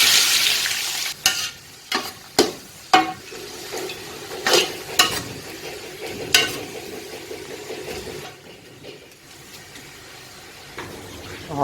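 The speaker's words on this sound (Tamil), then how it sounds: "ஆனியன் ஃப்ரைட் ஆகிட்டுருக்கு" Sliced onions fry in oil in a pot for Adam Bhai style biryani, giving a steady close sizzle broken by several sharp scraping stirs of a spoon against the metal pot. The sizzle softens in the last few seconds and there is no talk.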